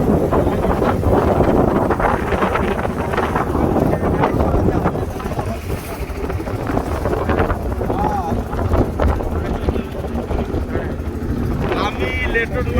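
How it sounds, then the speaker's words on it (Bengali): A trawler boat moving along the Brahmaputra river, a steady low engine drone mixed with heavy wind buffeting the microphone, continuous and loud throughout, with a voice talking over it. "ট্রলার যাচ্ছে।"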